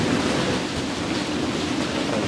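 Heavy rain and wind from a storm surround a sailboat anchored off Atlantic City, New Jersey, in 20 to 25 feet of water, giving a loud, steady, dense roar with no talk.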